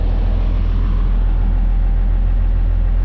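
A diesel engine idling after repair work on its injection pump, a loud, steady low rumble with a constant hum and no changes in rhythm, heard up close with no talking.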